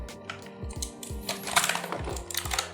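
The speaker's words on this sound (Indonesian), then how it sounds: "Dan dari suaranya, ini kayaknya blue switch." An Aula F3287 mechanical keyboard with blue switches gives off a quick run of crisp, close clicks from irregular keystrokes, growing busier and louder midway.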